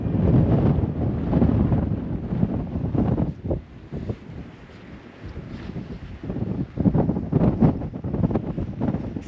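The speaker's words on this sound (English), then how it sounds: "Feel that wind." Wind blasting an open-top convertible on a hilltop road in Northumberland National Park, loud gusty rumble and buffeting across the whole stretch, easing briefly in the middle before surging again.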